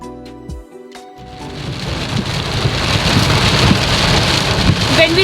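Heavy rain falls in a dense, steady roar that builds after a brief quieter opening, loud and close with no voices.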